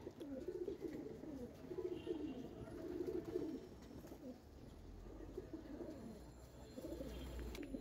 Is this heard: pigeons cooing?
yes